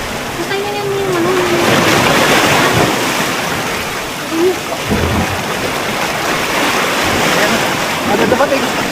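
Ocean waves surge and crash loudly against the shore, a continuous roaring wash of surf with a few faint voices underneath.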